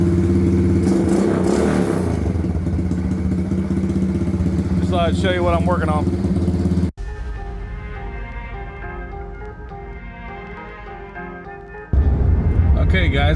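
A street-legal bumper car with a 110cc four-wheeler motor and dual exhaust idles loudly nearby, cuts out abruptly, then returns. Someone talks over the engine.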